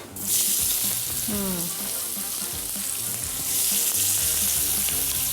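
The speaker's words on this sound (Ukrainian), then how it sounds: "Відправляю сюди цибулю." Onion goes into a hot pan beside seared pork and bursts into a loud, steady frying sizzle that swells again near the end, close up, with brief clinks as it lands.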